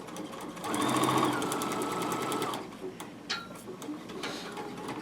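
A sewing machine stitches fabric in a fast, even run of mechanical ticking for about two seconds, then stops, leaving a few scattered clicks and handling noises close by.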